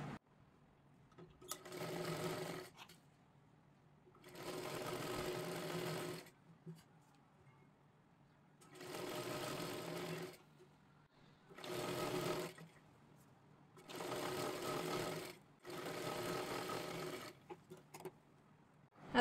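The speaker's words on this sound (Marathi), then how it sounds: "इथे बरोबर एक शिलाई करून घ्यायची आहे" A sewing machine stitches around a blouse neckline in six separate bursts of steady mechanical whirring, each a second or two long, with quiet pauses between and faint background between runs.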